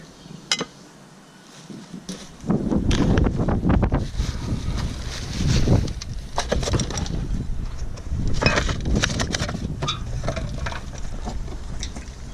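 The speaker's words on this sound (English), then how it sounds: "The wind is teasing me by having that lid blow down here and smack me in the head." Outdoor wind near a dumpster behind an auction house, a quiet opening that swells into rough gusting and microphone buffeting with scattered clanks and knocks, steady to the end without speech.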